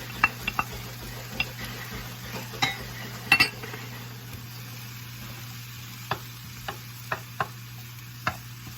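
Asparagus tossed into a Thai chicken stir-fry pan, with a steady low sizzle under scattered clinks and scrapes of a utensil against the pan, close and moderately quiet, no talking.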